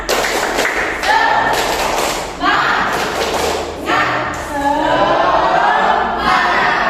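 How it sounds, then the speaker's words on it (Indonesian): Schoolchildren in a biology class perform the "tepuk semangat" clapping routine, loud and close, chanting together in bursts over rhythmic clapping and thumping. "Tepuk semangat"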